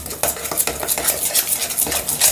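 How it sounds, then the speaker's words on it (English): A spoon stirs edible playdough mixture in a bowl, giving a quick run of soft, rhythmic scraping and sloshing strokes close by, with no voices. "Let's just keep stirring it."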